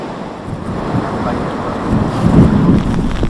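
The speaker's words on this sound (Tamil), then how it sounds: "கடல் அலைகளும் சீற்றத்துடன் காணப்பட்டன." Cyclone winds buffet the microphone over rough, churning sea waves along the coast of southwestern Japan, a loud continuous roar that swells toward the end.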